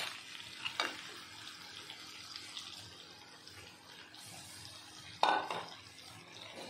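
Pieces of fried crab tipped into a pan of hot spiced oil with potatoes, a brief sizzle and clatter near the start and another sharper burst of frying later, over a steady low hiss.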